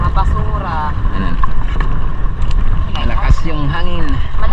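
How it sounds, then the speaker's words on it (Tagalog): Strong post-typhoon wind at sea roaring across a small fishing boat, a steady loud rush of gusts and hull noise throughout, with voices talking over it. "Malakas yung hangin. Malakas ang hangin, feeling ko bagyo pa rin."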